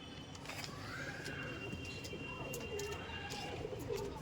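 Pigeons coo softly in the background under a steady murmur of ambient noise, with a few low throaty calls spread across the clip.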